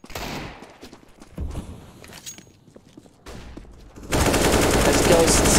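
Rapid pistol gunfire from a Counter-Strike match on the Dust2 map, bursts of sharp shots with a dense continuous stretch of firing near the end.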